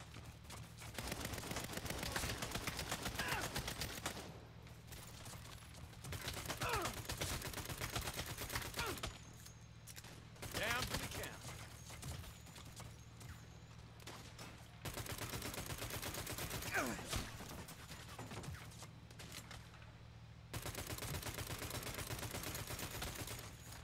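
Gunfire in the video game Saints Row, with dense bursts of rapid shots in several long volleys separated by short quieter gaps, loud and close.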